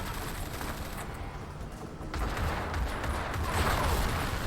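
Gunfire in the game Spy Hunter: Nowhere to Run forms a dense, steady crackle of rapid shots that swells louder in the second half, with no voices over it.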